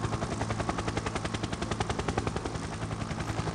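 Helicopter in an augmented reality demo, a loud rapid rotor chop pulsing in a fast, even rhythm over a continuous engine drone, close and sustained with no voices.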